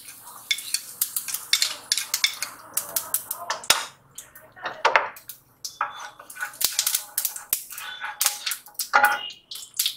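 Cumin seeds crackle and sizzle in hot oil in a kadhai, a dense run of sharp pops and snaps spread across the whole stretch, close and moderately loud, with occasional clinks of a utensil against the pan.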